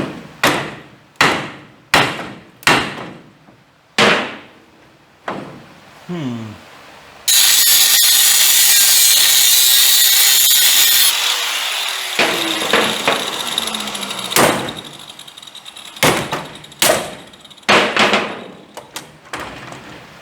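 Loud, sharp hammer blows on a Mustang II suspension part, struck in irregular bursts of several hits, with a stretch of harsh mechanical grinding in the middle.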